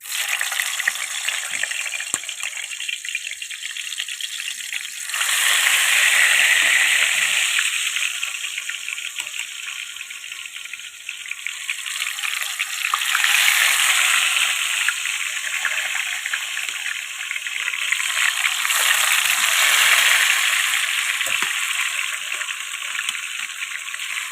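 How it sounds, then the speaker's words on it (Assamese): Pumpkin-leaf fritters fry in hot oil in a wok, a sustained hissing sizzle that swells and fades in waves as batter goes in one piece at a time. "এতিয়া এটা এটাকৈ পকৰিখিনি ইয়াত দি দিম তেলত।"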